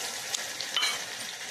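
Prawns going into a frying pan for prawn curry, a dense, steady sizzle heard up close with a brief sharper hiss partway through; no talk.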